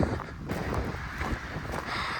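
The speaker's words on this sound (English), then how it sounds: "It's a little windy." Steady outdoor wind buffeting the microphone, a broad rushing roar with gusty swells throughout, no voices.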